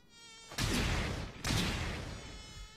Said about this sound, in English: The mosquito!